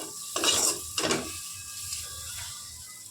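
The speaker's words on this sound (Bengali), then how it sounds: "এটাকে একটু ভালো করে মিশিয়ে নিচ্ছি" Ginger garlic paste being stirred into a papaya fish curry in a pan, heard as two short, close scraping strokes of a utensil against the pan followed by a quieter simmering background, with no voices.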